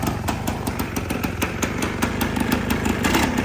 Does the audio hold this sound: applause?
no